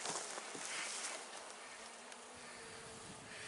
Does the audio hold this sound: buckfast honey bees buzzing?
yes